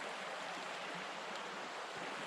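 A flowing stream beside a river on a bikepacking camp, a faint, continuous broadband rush of water with no voices over it.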